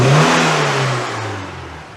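A car engine running on a farm while water drips from its exhaust, its tone revving and then slowly easing back to a steady hum, fairly close and with no talk.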